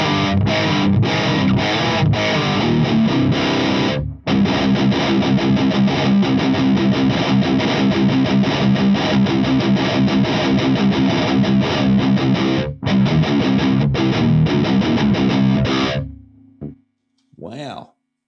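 A heavily distorted electric guitar through a Heart Attack Nano mini amp plays loud, buzzing chords and riffs with audible hiss, continuously with a couple of brief gaps, ending in a few isolated notes.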